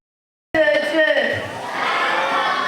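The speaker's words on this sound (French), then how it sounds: "On acclame très fort pour Jésus" After a moment of silence, a church congregation at a night service bursts into loud cheering and shouting for Jesus, a sudden roaring crowd swell of many voices that stays strong to the end.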